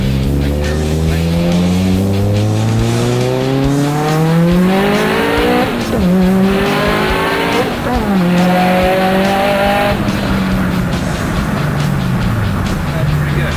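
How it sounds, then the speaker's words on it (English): A car accelerates hard up a highway on-ramp after an AEM install, the loud engine note climbing through the gears with clear rev sweeps and shift dips, close inside the cabin, with a voice talking over it. "Accelerate the car, getting on the ramp."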